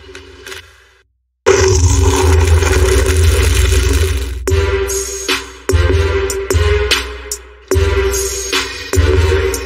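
A loud custom lifted Chevy 5500 truck engine revs hard in repeated heavy bursts, each roar rising and dropping back, close and dominant with a deep rumbling low end and no talking.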